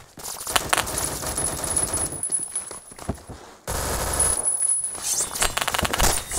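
SCAR-H rifle fire rattles in Roblox Phantom Forces: loud, close bursts of rapid gunshots come in two long strings split by a brief gap, with sharp clinks mixed in.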